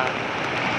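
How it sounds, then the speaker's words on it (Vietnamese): Steady rain falling in Saigon in the early evening, a continuous even hiss of drops under an umbrella, with a faint murmur of city noise beneath it. "mưa cứ liên tục, chút mưa rồi chút không mưa, mưa rồi ngưng lại mưa"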